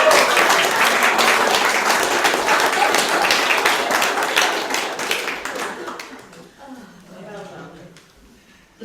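A live audience at a summer school theme talk breaks into loud, dense applause that holds steady for several seconds, then thins out and fades as scattered claps and murmuring voices remain.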